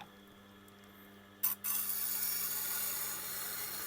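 A kitchen knife being sharpened to build a bevel, with a sudden brief grinding burst followed by a steady, bright abrasive hiss that runs on continuously over a low hum.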